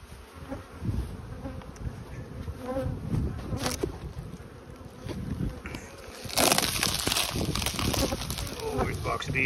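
A dense, steady buzzing of many honey bees at a hive box hums close by, swelling louder near the end, with a voice speaking briefly over it.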